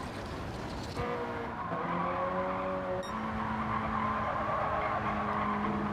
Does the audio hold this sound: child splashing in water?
no